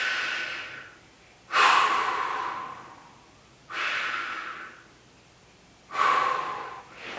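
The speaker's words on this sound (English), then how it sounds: "just take some deep breaths in" Three slow, deep breaths in, spaced about two seconds apart, each a soft airy rush swelling through the nose and mouth while lying over a ball placed under the low back, alone and close with quiet pauses between.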